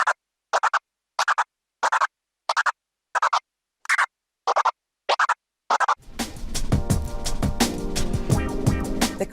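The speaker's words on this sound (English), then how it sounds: "in this video I'll teach you how to do the crab scratch" Crab scratch on a DJ controller fader: nine quick bursts of rapid stuttering cuts separated by silences, followed by a continuous stretch of music.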